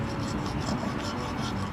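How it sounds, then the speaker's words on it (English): Steady rasping and scraping from hand carving with a hammer and chisel in an arts center workshop, a continuous rough grind with faint rhythmic pulses and no voices. "sizzling away with a hammer and a chisel"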